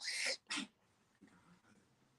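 Two quick, sharp sneezes from a small animal in close succession, followed by soft snuffling breaths in a quiet room.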